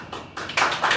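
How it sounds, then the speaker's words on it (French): One team in a French television studio audience applauds, a short burst of scattered clapping that swells in loudness over about a second, with no talk. "Alors, équipe 1, on applaudit."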